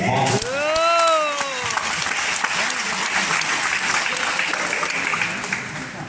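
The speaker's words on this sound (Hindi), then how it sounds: "एक बार ताली बजाइए।" An audience at an RCM business seminar gives a burst of applause, loud sustained clapping that swells then settles, while a voice speaks over it at the start.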